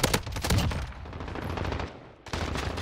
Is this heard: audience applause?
no